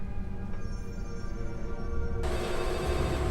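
A phone rings with an incoming call, its electronic ringtone repeating steadily and fairly loud, getting brighter and fuller partway through, with no talking over it.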